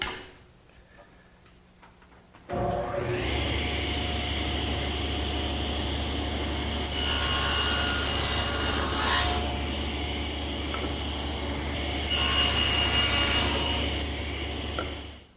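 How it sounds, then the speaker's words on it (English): A saw makes the cheek cut of a wooden tenon for a bedside table. After a quiet opening, a steady machine hum begins, and the cutting grows louder in two distinct bursts. "the next cut to make is the cheek cut to remove the rest of this material"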